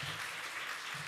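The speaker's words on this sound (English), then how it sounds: "I like starting with applause" Brief applause from a conference audience welcoming a presenter to poster lightning talks, a soft, somewhat distant patter of clapping at even, low level.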